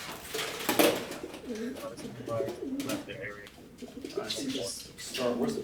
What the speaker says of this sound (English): Pigeon noises.